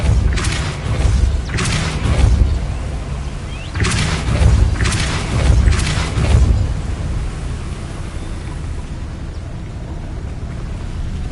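Depulso spell cast in the video game Hogwarts Legacy, a series of deep booming blasts in two clusters, followed by a quieter rumbling tail.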